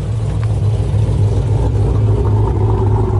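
A Chevrolet Camaro ZL1 with a modified exhaust at a Cars and Coffee meet in Charlotte gives a loud, close, deep engine rumble. It holds a steady throaty idle with slight revving swells across the whole clip and no talk over it.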